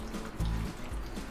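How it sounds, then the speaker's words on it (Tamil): Water poured from a vessel into a pot of cut nendran bananas, a brief close splash and gurgle in two short bursts, heard alone. "கொஞ்சம் தண்ணி விட்டுக்கலாம்."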